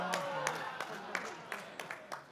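An audience at an executive summit claps in a scattered, uneven rhythm, individual claps distinct and moderately close, with talk and crowd murmur running underneath.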